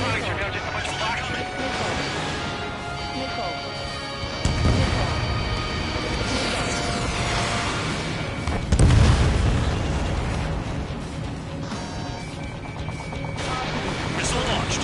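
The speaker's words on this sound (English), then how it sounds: "Missile launched." Video game missile launch followed by explosions, two heavy booming blasts standing out over a busy backdrop of music and gunfire, with game voice callouts running throughout.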